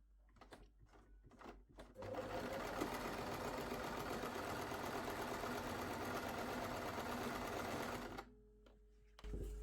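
Sewing machine running a long steady seam through slippery velvet from leftover trousers, a close continuous motor whir with fast needle chatter for about six seconds, then stopping.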